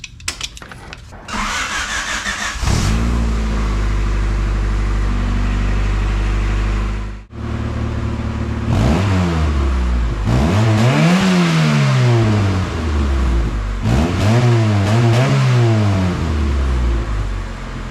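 A Honda Civic engine with a new exhaust cranks and starts, idles, then revs up and down repeatedly in loud, rising and falling surges.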